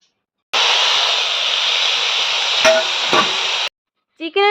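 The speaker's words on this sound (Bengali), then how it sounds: "এরপর আমি দিয়ে দেব এর মধ্যে কেটে রাখা চিকেনের কুচিগুলো" Chopped chicken pieces hit a pan of frying spice masala for chicken bhurji, setting off a loud, steady sizzle for about three seconds with a couple of stirring knocks. A voice follows briefly afterwards.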